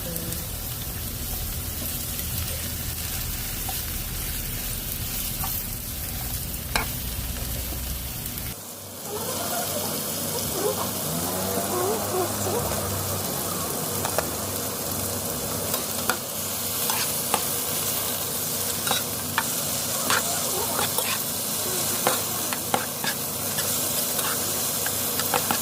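Mushrooms drop into a hot pan with garlic and bacon and burst into a loud, steady sizzle, with scraping stirring strokes and small pops continuing close by.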